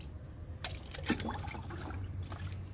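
Kitchen waste liquid fertilizer poured from a mug, faint trickling and splashing liquid with a few soft drips over a quiet background.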